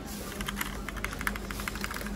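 Keyboards in a shop are tried out with quick, light typing, a steady patter of soft clicks, close but fairly quiet over a low room hum.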